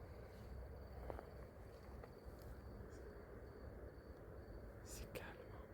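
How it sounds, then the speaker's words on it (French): Crickets chirp faintly near an old cloth mill site at night, a thin steady high trill over a low hum, with a few soft clicks and a hushed voice. "Il y a des grillons."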